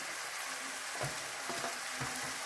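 Meat fries in a pan for a desi-style meat recipe, a faint steady sizzle with a few soft scraping stirs, no voices.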